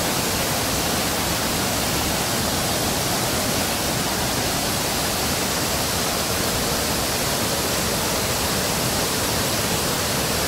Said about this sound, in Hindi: यहाँ पे पानी की आवाज़ पहले सुनिए, लग रहा है कि तूफान आया हुआ है यहाँ पे